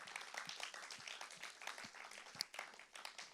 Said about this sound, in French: Waouh, on peut applaudir.